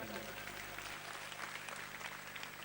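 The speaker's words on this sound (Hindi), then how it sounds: "एक बार उनके लिए भी जोरदार तालियां।" Steady applause from a crowd at a public gathering in Delhi fills the space, a dense continuous clatter of clapping with no break.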